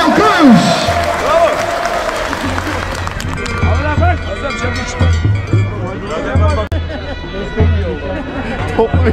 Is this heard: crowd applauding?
yes